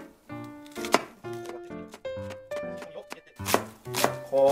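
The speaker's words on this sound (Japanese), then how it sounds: "こうやってみじん切りしていきます" An onion being finely chopped with a knife on a board, a quick series of crisp close knocks in uneven bursts with short pauses between them.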